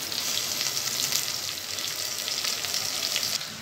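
Onion and ginger pieces frying in a hot pan give a steady, bright sizzle that continues evenly without pause, close and moderately loud.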